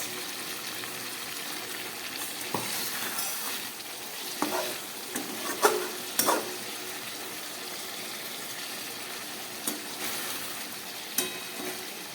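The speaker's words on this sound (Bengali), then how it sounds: "একদম কম মশলা দিয়ে রান্না করলাম বাছা মাছ" Bacha fish simmering in a pan with a little water and light spices, giving a steady low sizzle and bubbling with occasional sharp stirring scrapes and clinks, close and moderately loud, no talking.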